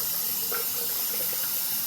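Lukewarm tap water runs steadily while a five-year-old child's hair is wet down in a wash, a continuous close gush of water with no talk over it.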